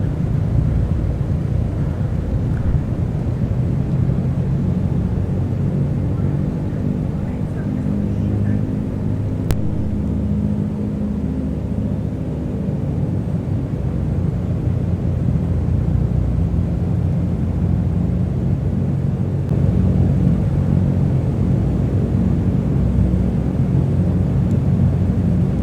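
A Constellation L049 propeller airliner taxiing in a flight simulator gives a continuous loud, low engine drone and rumble. The sound stays steady for the whole stretch, with a faint thrumming beat and no talk.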